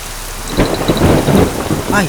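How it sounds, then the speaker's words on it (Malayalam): Heavy rain pours steadily while thunder rumbles loudly and close, with deep rolling booms through most of the stretch. "നന്നായിട്ട് ഇടിയും വെട്ടുന്നുണ്ട്"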